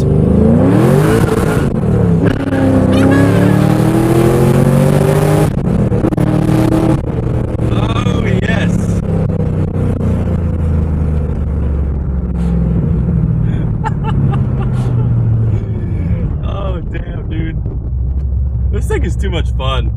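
Modified 500hp+ 2002 Camaro Z28 V8 engine accelerating hard while driving, a loud rising roar through the gears close inside the car, with someone talking over it.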